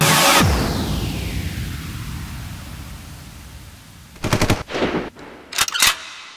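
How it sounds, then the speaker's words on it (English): A booming gunshot from an artillery production piece, a loud blast whose long rumbling tail fades over several seconds, followed by a quick burst of sharp rapid shots and another short volley near the end. "it's just the shooting and the gun"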